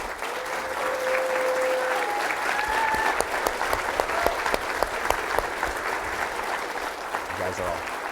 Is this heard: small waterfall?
no